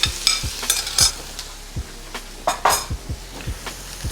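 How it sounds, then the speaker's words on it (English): Cooked pasta shells tossed with a garlic mixture in a pan for a crab and shrimp stuffed shells dish, giving a run of close, rhythmic clanks and scrapes of utensil on metal over a soft sizzle, with no talking. "Go ahead and mix that in, give it a toss."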